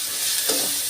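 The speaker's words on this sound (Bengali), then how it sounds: "মশলাটা কিন্তু আমি ভালো করে কষিয়ে নেব" Spices with salt, turmeric and chilli powder frying in a pan, a dense, bright, continuous sizzle up close with a soft stirring scrape in the middle, no talk.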